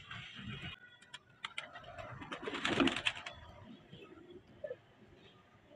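Pigeons on a rooftop give soft, faint coos and rustles amid scattered ticks and light clatter, with a louder flurry near the middle.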